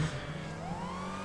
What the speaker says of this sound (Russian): Я слышу сирены сзади,